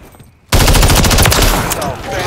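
Rapid automatic gunfire in a Call of Duty match bursts in loud and sustained after a brief quiet lead-in, dense continuous shots with no pause.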